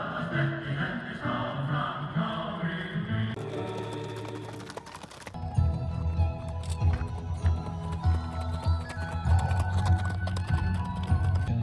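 Rapid clip-clopping of Icelandic horse hooves at a horse show, a busy repetitive clatter close by, pausing briefly before resuming over a low rumble.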